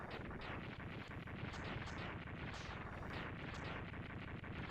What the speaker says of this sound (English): Large explosion animation for a mini boss.